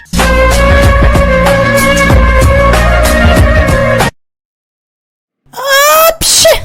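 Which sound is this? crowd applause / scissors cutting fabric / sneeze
sneeze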